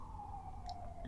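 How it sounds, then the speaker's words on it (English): An emergency vehicle siren wails steadily outside, fairly faint and distant, with a slight clicking near the end and no talking. "sorry about that siren."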